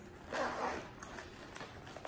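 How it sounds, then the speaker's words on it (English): A small zipper on a bugout bag is drawn open with a close, raspy pull, followed by lighter zipping ticks and rustles. "Back here in this final little zipper, if I can find it."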